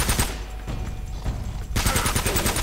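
Rapid gunfire bursts in Uncharted: Drake's Fortune during a run-and-shoot firefight, loud, dense repeated shots, dipping briefly midway and then returning in a fast volley.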